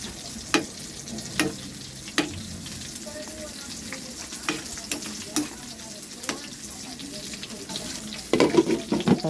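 Laswa vegetables stirred in a cooking pot with a sizzling background, spoon strokes landing as irregular scraping knocks and clatters, and a busier burst of stirring near the end.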